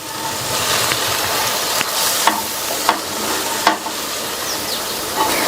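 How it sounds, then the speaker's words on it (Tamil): Chopped arai keerai (amaranth greens) stirred in a hot pan for sambar, giving a steady close frying sizzle with a few soft scrapes of a spoon against the pan; no one talks. "நல்லா ஒரு பிரட்டி விட்டுறலாம்."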